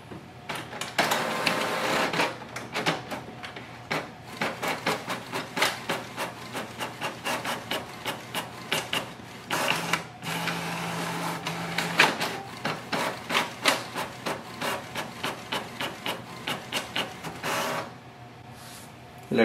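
A Canon MAXIFY GX4020 all-in-one inkjet printer runs a two-sided duplex print job, giving a long series of rapid rhythmic mechanical clatters and feed whirs with a brief steady hum partway through.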